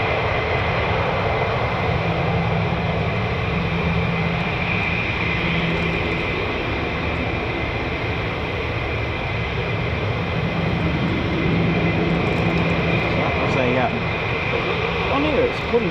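A Boeing 767 flies past near RAF Lakenheath, a steady, broad jet engine rumble lasting throughout, with people talking over it.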